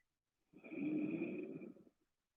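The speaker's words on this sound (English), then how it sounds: "as you slowly lengthen and deepen the breath, controlling the inflow and the outflow through the nostrils" Slow, deep breath drawn through the nostrils during an Ashtanga yoga breathing practice, one long airy inhale-exhale of about a second and a half, close and soft, with a faint snore-like rasp and no talking.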